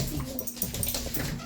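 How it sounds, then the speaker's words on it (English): A dog whines and whimpers to be let outside, a string of short, close, high-pitched cries coming in quick uneven bursts, with no one talking over it. "I got a dog wanting out, so give me just a second."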